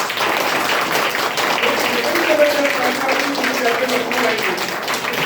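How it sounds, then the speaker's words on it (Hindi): Audience applause at a certificate and prize distribution ceremony for a skill development program: a steady, dense wash of clapping for several seconds, with voices murmuring beneath it. "तालियां थोड़ा जबरदस्त होनी चाहिए"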